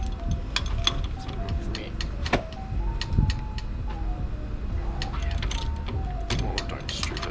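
Mechanical work on a GT80 motorbike's rear wheel, with metallic clinks, ratcheting clicks and clattering parts in a close workshop, plus scattered thuds and a faint tonal hum underneath throughout.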